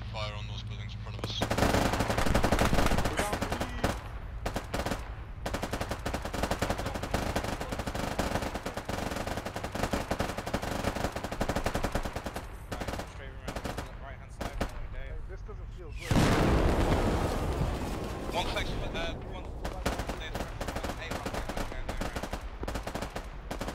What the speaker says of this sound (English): Hey, gunners, rapid fire on those buildings in front of us